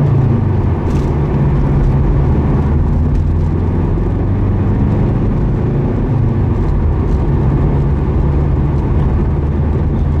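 A small car drives along on a dry morning commute, its engine and road rumble a steady, close, low drone with no talk.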